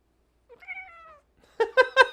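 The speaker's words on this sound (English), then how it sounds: "I think she meowed like right into the mic." A pet cat meows right into a close microphone: one drawn-out meow, then a quick burst of short, louder chirping meows.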